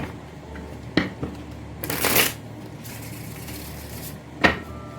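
A deck of oracle cards is shuffled by hand, with a few quick riffling bursts and soft taps separated by quiet pauses.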